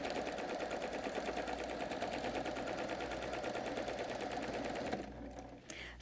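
A sewing machine runs steadily for free motion quilting, its fast even needle chatter continuing for about five seconds before stopping, leaving a quieter hum and a small click.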